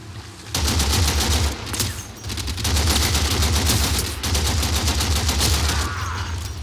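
Sustained rapid gunfire from a basic weapon in the video game Warframe, loud and continuous with brief pauses, bursts running almost the whole time with no talking.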